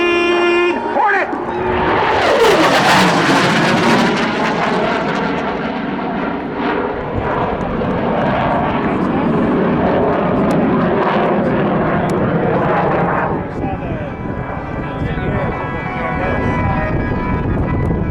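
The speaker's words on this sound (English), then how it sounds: "just under the speed of sound, let's give it up for your CF-18" RCAF CF-18 Hornet jet fighter making a fast low pass at the 2012 Waterloo Airshow, a loud roaring rush with a sweeping pitch drop that builds sharply then sustains a heavy rumble, with wind buffeting the microphone.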